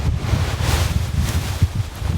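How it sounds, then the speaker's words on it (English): Strong storm wind buffets the microphone at a campsite in heavy rain, a loud, continuous low rumble with gusty surges and no voices. "the side that's going to get hit with the most wind"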